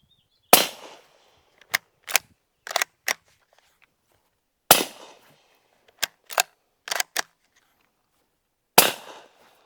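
Suppressed gunshots from a Hush-Point .45 silencer on a 300 Blackout rifle, sharp cracks followed by clacks of the action, repeated in two similar groups with quiet gaps between.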